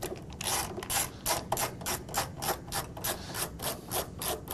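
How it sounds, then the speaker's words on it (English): Screws are worked out of an aircraft passenger seat, a close run of rhythmic ratcheting and gritty scraping strokes at a steady pace, with no talking. "In the front, you have a set of screws here that have to be removed."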